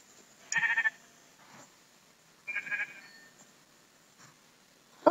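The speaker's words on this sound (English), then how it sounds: "There's so many sheep." Sheep in the video game Minecraft bleat twice in short, clear calls a couple of seconds apart, with a faint third note near the end and quiet gaps between.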